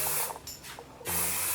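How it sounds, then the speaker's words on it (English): Hairspray hisses from a can over freshly curled short hair in two close, breathy bursts separated by a brief pause. "I'm just gonna give it a little spray"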